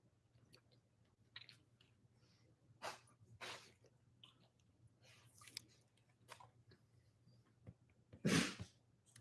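A single sharp sneeze bursts out near the end, loud and close. Earlier, faint clicks, chewing-like sounds and breaths sit over a low steady hum in a quiet room.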